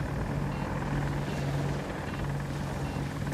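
A steady, loud armoured helicopter drone in a video game, with rotor thrum continuing without break, a constant engine roar and no voices.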